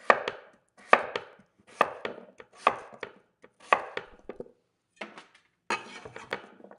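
A knife cuts peeled potatoes into cubes on a cutting board, sharp close chops in short bursts with brief pauses between them.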